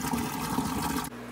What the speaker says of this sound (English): This is what I'm talking about when I'm draining water to the floor drain.